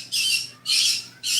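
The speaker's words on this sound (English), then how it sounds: "My birds have opinions. I do apologize. I know they're noisy." Pet birds give three harsh, loud squawks in steady succession, each lasting about a third of a second with short gaps between, close by and alone.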